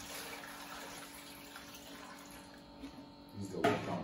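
Steady running water pours into a pot of eggs throughout, with a louder splashing surge near the end as more liquid hits the pot.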